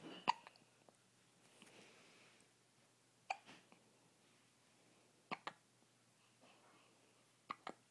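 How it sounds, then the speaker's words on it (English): A small child hiccups several times at spaced intervals, sharp and fairly close in a quiet room, each hiccup short with a faint catch around it. "do you have the hiccups?"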